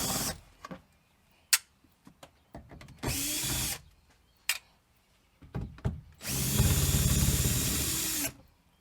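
A power drill on a Jeep XJ removes Phillips head screws from the trim, running in short whirring bursts and one longer spin, separated by quiet pauses and small handling clicks.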